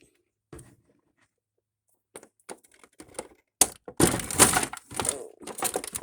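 Scissors snip and crunch through plastic twist ties holding a 1:6 scale Ken action figure inside its packaging, with sparse sharp clicks early giving way to a dense, loud run of cutting, crackling plastic and rustling.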